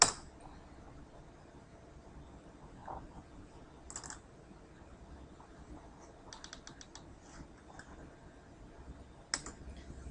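Quiet computer mouse clicks and a few light keyboard taps, scattered and sparse, with a brief run of rapid clicks midway, faint over low room noise.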